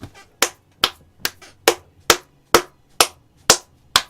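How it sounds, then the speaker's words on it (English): Ten sharp hand claps at a slow, steady pace, each a crisp isolated smack with brief decay, close and fairly loud with no talking. "I know I'm sarcastically clapping a Premier League winner"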